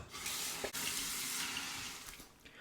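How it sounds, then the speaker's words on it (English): Cold tap water runs steadily into a sink with a constant hiss, close by and alone, interrupted by one brief dip, ahead of a face rinse after a shave with an Edwin Jagger Chatsworth razor. "A final rinse to the razor and then a cold water rinse to the"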